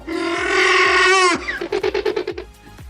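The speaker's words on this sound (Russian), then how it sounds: "что это звуки спаривающихся черепашек" Velociraptor cries for a film, made from recordings of mating tortoises: a loud, raspy, bleating call held for over a second, then a fast stuttering series of short barking yelps.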